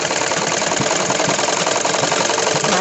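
A sewing machine stitches the side seam of a woolen kurti with a steady, fast mechanical chatter that runs unbroken at close range with no talk.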